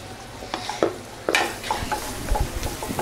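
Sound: garlic and onion sautéing in melted butter

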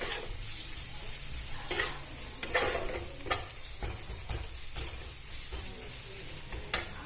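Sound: Kashmiri chillies frying in a pan

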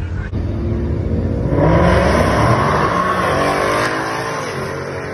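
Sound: supercharged 5.0 Ford Mustang accelerating on drag strip run

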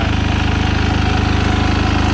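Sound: Yanmar diesel straw baler engine running

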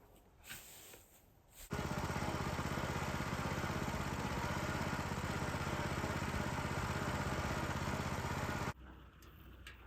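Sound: car engine while driving home

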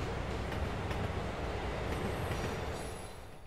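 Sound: train riding in Spider-Man PS4 video game

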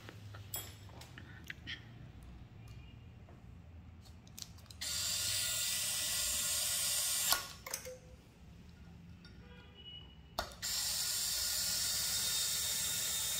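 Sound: ASA screwdriver spinning a free-rotating screw

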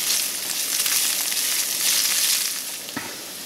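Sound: red onions sauteing in a pan

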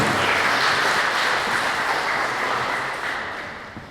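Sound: applause for youth fire brigade team

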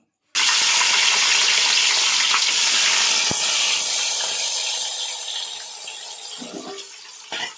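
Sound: curry leaves, green chili, tomato, onion frying in pan

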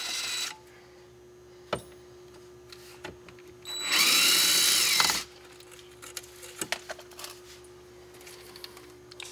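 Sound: power drill removing screws from hot tub pack

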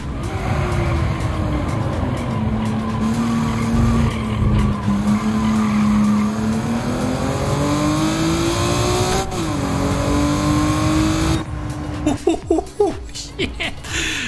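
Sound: Honda NSX Type R racing, tire squeal, Gran Turismo 7 video game

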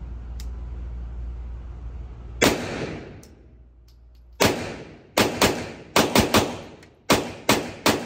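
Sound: gunshots from a DS 1911 pistol at a shooting range

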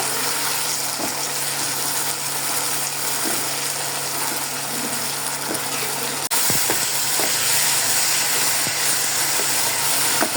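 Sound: green chili, ginger, garlic paste sautéing in pan

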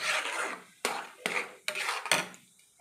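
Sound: stirring semolina with water into dough

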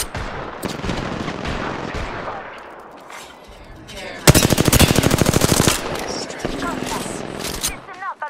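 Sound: gunfire in video game Apex Legends

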